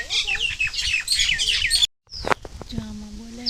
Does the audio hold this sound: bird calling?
yes